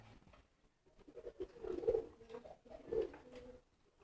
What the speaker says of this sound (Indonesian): ini merpati jambul